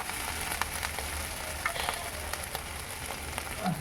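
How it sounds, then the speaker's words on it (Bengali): Tomatoes fry in oil for a rui fish curry while being stirred, giving a steady close sizzle dotted with small crackles and soft scraping, with no voices. "ভালো করে নেড়েচে টমেটোকে ভেজে নেব।"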